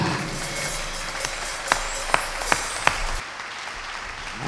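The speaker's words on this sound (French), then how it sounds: "Acclame très fort Jésus-Christ" A church congregation applauding loudly during a sermon in Tsévié, Togo, with dense sustained clapping and a few sharp metallic pings standing out, easing off near the end.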